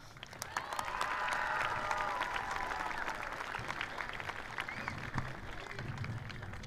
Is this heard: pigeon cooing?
no